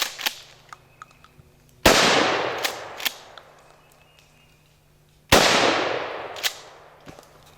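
A Mossberg 590 Shockwave shotgun fires two loud, sharp blasts a few seconds apart outdoors, each followed by a long fading echo, with scattered fainter pops and clicks between.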